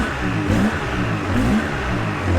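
A Polaris Sportsman 700 ATV with a twin-cylinder engine revs close by, a loud, throaty, continuous rumble with rising throttle surges, heard on its own.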